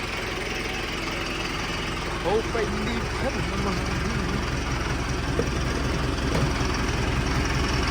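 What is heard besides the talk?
tractor engine idling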